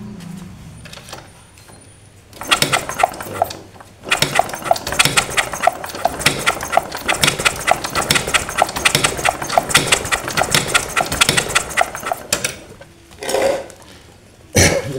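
Repeated sharp mechanical clatter from the kick-starter of a Honda Supra 125 motorcycle with no ignition spark being pumped over and over, loud and close, with short pauses at the start and end.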